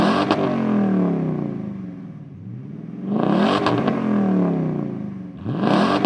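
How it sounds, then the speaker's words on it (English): Toyota Tundra fitted with a carbon single side exit exhaust and ceramic black tip, revved in two loud, throaty blips that rise and fall back to a rumbling idle, recorded close with no talking. "the exhaust that represents the loud genre the best is the Carbon Exhaust single side exit exhaust system with the ceramic black tip"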